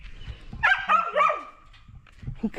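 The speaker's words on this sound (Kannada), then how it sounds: "ನಾಯಿ ಮಾತಾಡಲಿಕ್ಕೆ ಬಿಡ್ತಾ ಇಲ್ಲ ನಾನು ಅದರ ಜೊತೆ ಮಾತಾಡ್ಬೇಕಂತೆ" A dog at an areca nut plantation barks and whines for attention, a few loud close yelps and whimpers in a short burst, then quieter low whines trailing off, with no talk.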